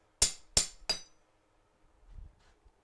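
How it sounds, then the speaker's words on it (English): Three sharp, loud hammer blows ring out on a cold steel blade being straightened to remove a bend, evenly spaced in quick succession with bright metallic ringing, followed by faint low handling noise. "I don't usually like to hammer cold steel"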